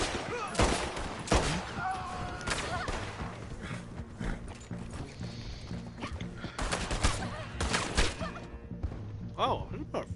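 Gunfire in the Western game Red Dead Online: repeated sharp shots and clustered volleys ring out across the clip over dense game ambience, with someone talking between the blasts.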